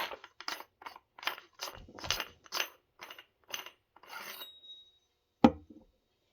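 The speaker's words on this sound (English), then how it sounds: "this is a heat shield for your barrel. You want to take this off. It's just as simple as twist." Heat shield being twisted off the barrel of a BTS12 bullpup pump shotgun: a run of close metallic scrapes and ratcheting clicks, then a single sharp clack near the end before silence.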